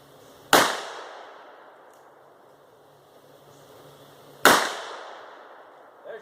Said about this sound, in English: 6 smokeless loads right up.